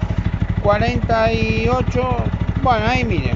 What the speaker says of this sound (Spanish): La moto está regulando, está ahí en, bueno, no sé muy bien, pero estamos en 1500 RPM